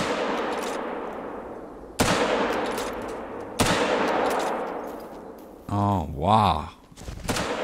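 Two loud, sharp .223 rifle reports in a hunting game, each trailing off in a long echoing decay across open terrain, followed by a voice exclaiming briefly.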